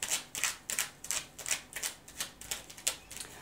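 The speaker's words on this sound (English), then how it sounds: "shuffle this deck" Quick, repeated riffling and snapping of a tarot deck being shuffled, about a dozen crisp bursts in a steady rhythm, close by with no talking.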